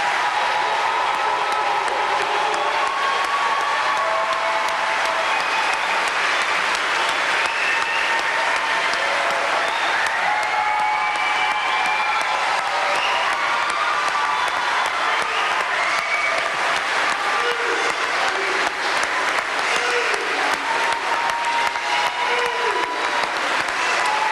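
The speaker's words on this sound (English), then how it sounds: "Let's give our new police officers a round of applause." Sustained applause from a large audience at a police academy graduation ceremony honoring new police officers, steady and loud for over twenty seconds with light crowd murmur and scattered cheers.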